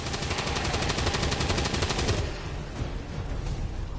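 Rapid machine-gun fire from XCOM 2, a dense loud burst of shots for about two seconds that then drops off into a lower rumbling tail with faint scattered impacts.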